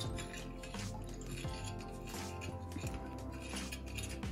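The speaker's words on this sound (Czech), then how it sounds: "teď to rozmíchám" Honey and water being stirred in a pot for homemade mead: soft liquid sloshing and drips with light scrapes of a utensil against the pot, quiet and close, with no talk.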